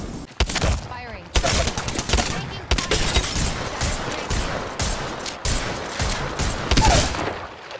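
Bursts of rapid gunfire from the video game A'VANTAGE, repeated loud volleys with short gaps between them over about eight seconds, with no talking over them.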